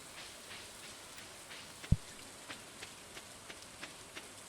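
Steady rain falls in the farming game Stardew Valley, a soft, even patter with light regular droplet ticks and one sharp tap partway through, faint and without music or voices.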